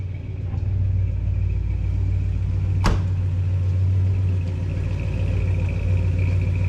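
A 1969 Dodge Charger's engine rumbles steadily and deeply nearby, holding an even level throughout, with one sharp click partway through.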